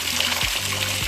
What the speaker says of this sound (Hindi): झरना है ये देखो, यहाँ हम हाथ धोएगा।